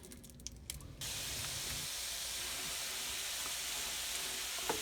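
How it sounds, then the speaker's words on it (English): Hamburger meat sizzles and hisses steadily in a pot while frying for red chili, a close, even crackle that rises after a moment of clattering and continues alone. "Frying up our hamburger still."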